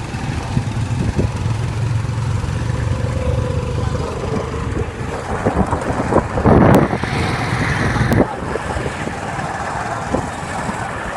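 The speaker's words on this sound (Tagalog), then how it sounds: "Sakay ako ng tricycle." A steady low rumble of a tricycle engine idling and running continues throughout, close by, with traffic noise around it and a brief louder surge partway through.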